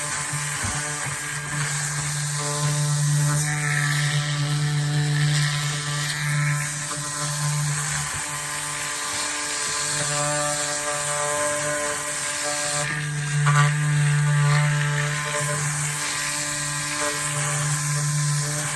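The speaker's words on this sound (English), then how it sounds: "I'll give it a good sanding." A power sander whines steadily and loudly on wood, its motor pitch wavering slightly as it works across the surface.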